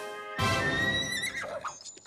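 A cartoon horse in a cowboy-themed children's show lets out one loud, clear whinny that rises and then trails off in wavering pitch, close and alone after a brief quiet start.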